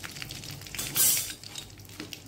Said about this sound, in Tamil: ஒரு சட்டியில் எண்ணெய் ஊற்றி கடுகு சோம்பு உளுந்தம் போட்டு கருவேப்பிலை போட்டு